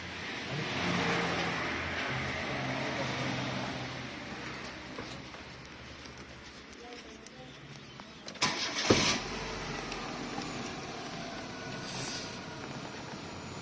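A petrol car engine running at idle, a faint steady hum with a louder burst of revving or a rattle near the middle, no talking.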